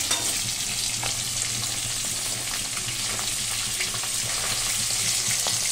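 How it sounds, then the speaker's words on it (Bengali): Three pieces of fish coated in salt and turmeric fry in a pan, giving a continuous bright sizzling hiss at a steady level with no talking. "এই যে 3 পিস মাছ আমি ভাজা করতে বসিয়ে দিয়েছি। নুন হলুদ মাখানো"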